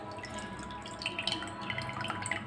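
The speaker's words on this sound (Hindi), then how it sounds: "अब इसकी पानी आप निकाल लें" Water draining off soaked, swollen chana dal, giving a light steady trickle with scattered drips and splashes, moderately near and heard alone.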